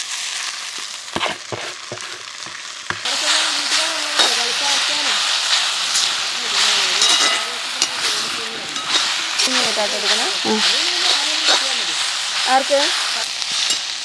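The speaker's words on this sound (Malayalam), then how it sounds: "വറുത്ത ഉള്ളിയൊക്കെ വഴറ്റി നമ്മളിനി അതിലോട്ട് മുരിങ്ങയുടെ ഇല ഇടുക കേട്ടോ" Fried onions and drumstick (moringa) leaves being sautéed in a pan, a steady close sizzle and scraping stir running under continuous talk, quieter clatter at first before the frying noise swells.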